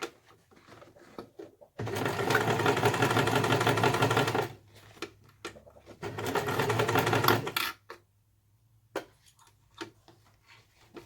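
A sewing machine stitches two pieces of bag lining together at a 3/8 seam allowance, running in two steady bursts of rapid mechanical clatter with a brief pause between, then stopping to faint handling clicks.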